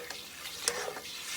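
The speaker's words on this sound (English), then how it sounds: "we're gonna wake up this curry powder in this oil for like a minute" Curry powder fries quietly in hot oil for a coconut chicken curry, giving a soft continuous sizzle with a few light utensil clicks and stirs.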